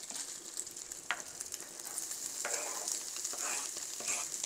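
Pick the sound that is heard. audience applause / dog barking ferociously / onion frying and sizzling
onion frying and sizzling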